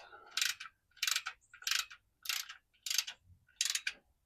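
Ratchet wrench tightening bolts during an oil change on a 1971 Volkswagen Super Beetle Autostick, six short, crisp ratcheting bursts at an even rhythm, close up and alone.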